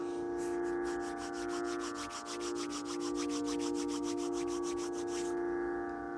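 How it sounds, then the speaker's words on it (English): Palms rub briskly together in a quick, even back-and-forth rhythm of soft swishes, close up, over a sustained droning musical tone. "Rub your palms together to create a warmth."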